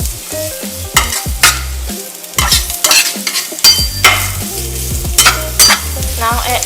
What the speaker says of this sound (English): Then stir fry them all together. Make sure the carrot and French beans are fully cooked.